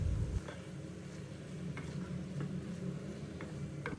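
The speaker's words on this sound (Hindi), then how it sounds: "अब कीमे और प्याज दोनों चीज़ों को हम एक दफ़ा अच्छे से फ्राई कर लेंगे।" Minced meat and onion fry in a pan with a steady, soft sizzle, broken by a few faint scraping stirs and light clinks of a spoon.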